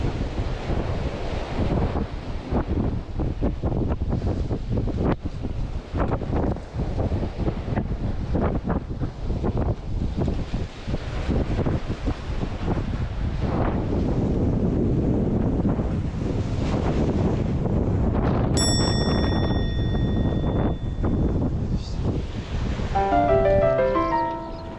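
Wind and waves at a Kanazawa harbour breakwater in the Ōhama district, where waves wash over the spot. Close, loud wind rumble buffets the microphone over continuous surging surf throughout, with no talking and a brief high tonal whistle near the end.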